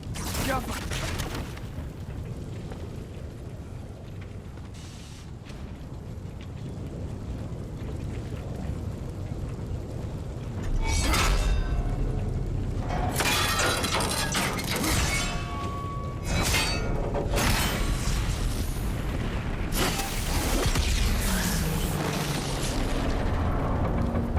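A mining rig collapsing and being destroyed in God of War Ragnarök, with loud crashing, shattering debris and explosive booms in bursts over rumbling game sound, while someone talks over the action.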